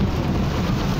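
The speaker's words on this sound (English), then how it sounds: "Oh, that thunder's beautiful." In the video game Morrowind, a storm gives off a steady, loud rumble of rain and thunder that fills the space with a dense, continuous roar and no voices.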